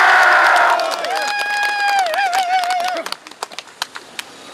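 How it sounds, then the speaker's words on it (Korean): A rally crowd claps and cheers at first, then the applause thins into a few scattered, sharp claps as a voice rises over it. "우리 다시 한번 마음을 담아서 감사한 박수를 한번 드립시다"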